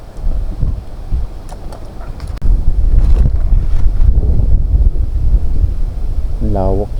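Strong wind buffets the microphone on a mountainside, a loud steady roar with gusts throughout, while people talk nearby.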